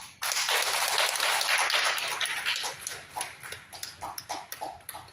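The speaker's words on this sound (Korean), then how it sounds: "다시 한번 큰 박수를 보내주십시다" Audience applause at a press conference held by North Korean defector human rights groups, breaking out suddenly as a dense, loud burst, then thinning over several seconds into scattered individual claps, with no talk over it.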